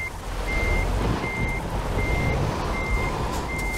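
Steady electronic reversing beeps pulse at an even rhythm over the low engine drone of a large truck maneuvering in Euro Truck Simulator 2, each tone clear and evenly spaced.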